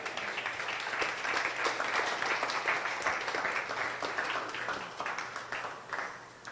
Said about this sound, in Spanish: ¿Cuántos pueden dar un fuerte aplauso al Señor?